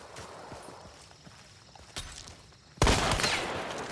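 Rifle gunfire in a video game: scattered light pops, then a sharp shot near two seconds and a heavier, louder burst that rumbles on to the end.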